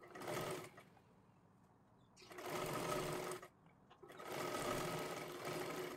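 An electric sewing machine stitches blouse fabric in three bursts of fast, even whirring and clatter, each lasting a second or two with short quiet pauses between runs.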